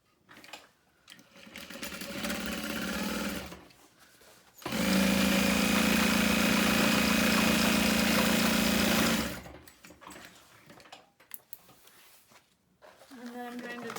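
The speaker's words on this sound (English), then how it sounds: "Now we're going to sew across the bottom." Sewing machine stitching across the bottom of a fabric bag, a loud steady whirring run of several seconds in the middle, with lighter machine sounds and handling before and after.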